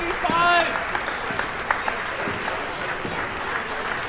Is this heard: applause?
yes